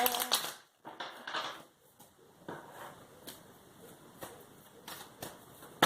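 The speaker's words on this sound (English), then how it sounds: "More shuffling. I am shuffling, as you can see, a lot." Tarot cards being shuffled by hand at close range, a quiet run of soft riffling bursts and light card taps in an irregular rhythm, with no talking.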